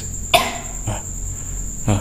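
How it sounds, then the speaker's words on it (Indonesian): Three short, sharp coughs spaced apart over a steady high electronic whine, the first one loudest, inside an abandoned animal laboratory. "Mas, Kameramen juga batuk-batuk."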